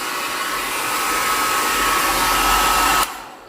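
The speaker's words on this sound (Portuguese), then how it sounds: "esse secadorzinho para a gente ver aqui rapidinho se ele aguenta" Small hair dryer powered through an LVYUAN 8000W off-grid inverter from a 60 Ah battery, blowing with a steady loud whine and airflow rush for about three seconds before cutting off abruptly.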